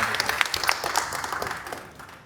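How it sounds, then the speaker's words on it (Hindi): At an LDP Trust Bitcoin investor and community gathering, a crowd claps for an upline, a brief burst of scattered applause that tapers off and fades toward the end. "सबसे पहले इस अपलाइन के लिए एक तालियां होनी चाहिए"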